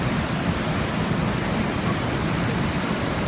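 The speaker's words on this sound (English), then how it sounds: "Walked up to the top of the falls now, where all the water gathers at the top." Rushing water at the top of Rhine Falls in Switzerland, where the river gathers before plunging over, makes a dense, steady, loud roar that fills the whole moment without a break.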